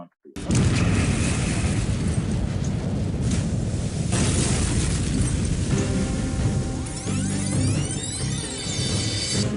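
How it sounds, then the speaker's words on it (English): Ignited fuel explodes and blasts a 20-ton steel hatch cover across a bay, a sustained loud roaring rumble with a heavy boom and wind-like turbulence filling the whole stretch. "The blast from the ignited fuel sends a 20-ton steel hatch cover hurling across the bay."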